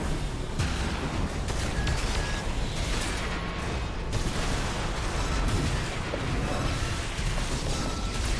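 Missile barrages launching and detonating in the mech combat game Armored Core 6 during a PvP match, dense and loud bursts of blasts and rumbling booms that follow one another without pause.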